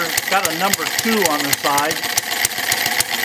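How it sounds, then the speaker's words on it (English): A small model engine idles on a commercial carburetor similar to a Super Tigre unit, with a rapid, steady ticking putter close up, while someone talks over it. "Now I've got my little engine running on a commercial carburetor."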